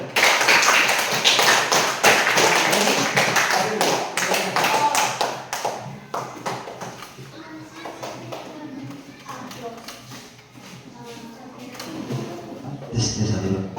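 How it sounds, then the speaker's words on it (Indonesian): Children in a classroom applaud a group in a burst of many quick claps that starts loud and dense, then thins into scattered taps and fades. Voices murmur under the later part. "Oke, tepuk tangan untuk kelompok satu."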